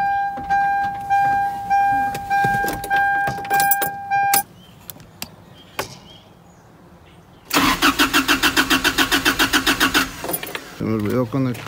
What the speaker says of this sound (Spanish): Vamos a ver si va a arrancar.